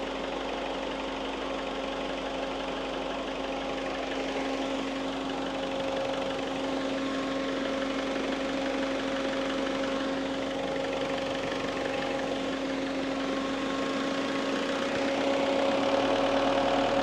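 A vehicle engine idles while charging a 12-volt battery system, a steady, even mechanical hum with a constant tone that swells slightly toward the end as the revs are raised.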